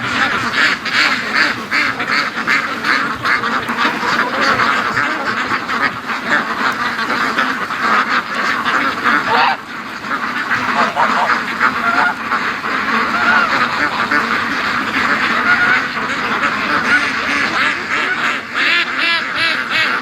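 A flock of Muscovy ducks on a free-range homestead, with dense overlapping quacks, hisses and honk-like calls close by, continuous and loud for the full twenty seconds with no talking.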